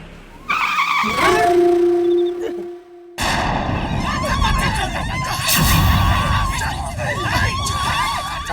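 A car skids to a stop on the road, a sustained tire screech followed by noisy, rumbling vehicle sound and general commotion.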